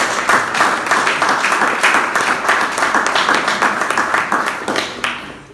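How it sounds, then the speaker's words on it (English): Loud, sustained applause from a crowd at a book launch, many hands clapping together before it thins out at the end. "Please a round of applause."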